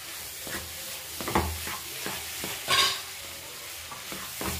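Okkara sweet cooking in ghee in a pan, with repeated scraping stirs and bursts of sizzling over a quiet hissing base; a louder splash of frying near the middle.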